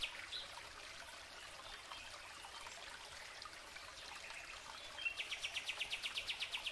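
Birds chirp and sing softly in a summer forest over a steady trickling stream, with a run of rapid, regular chirps near the end.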